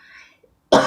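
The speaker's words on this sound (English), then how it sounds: "A lot of coughing." A single sharp, loud cough bursts out near the end after a moment of near silence, following a faint, brief murmur at the start.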